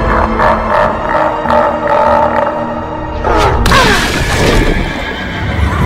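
A fierce demon's horse neighs loudly in a long, shaking whinny, followed by a sudden heavy crash and rumbling impact.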